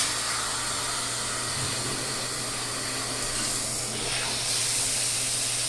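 A StoneStream shower head sprays water in a steady, loud, broad hiss that runs unbroken throughout, brightening and strengthening slightly toward the end as the flow picks up.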